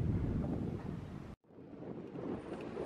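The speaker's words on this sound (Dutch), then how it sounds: "Het waait hier altijd stevig" Strong wind on a storm-surge barrier dam buffets the microphone in heavy rumbling gusts, cutting out briefly for a moment before the roar returns.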